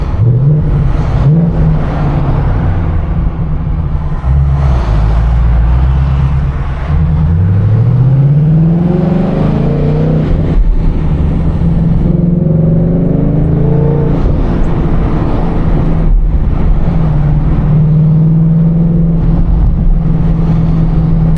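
Ford Mustang engine heard from inside the car while driving, a loud low rumble with repeated rev rises and gear changes, steady and close throughout.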